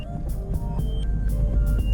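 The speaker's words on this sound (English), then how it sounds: "I still need to fix that exhaust because I'm still tired of it clanking everywhere" Short bursts of metallic clanking from a loose car exhaust while driving, with loose tools rattling in the back, repeated knocks over a low steady engine and road rumble.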